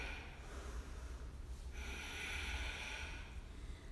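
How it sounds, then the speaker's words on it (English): Slow, steady breathing of someone resting in child's pose during a vinyasa flow yoga class, a soft continuous airy hiss with a gentle swell partway through, close and quiet, no talking. "take a few breaths here."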